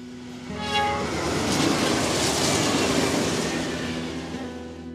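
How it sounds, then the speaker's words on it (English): A freight train rumbles through the small town of Poplar on the Fort Peck Reservation in northeast Montana, its horn sounding over the steady, loud roar of railcars passing close by. "the mighty railroad runs right through it"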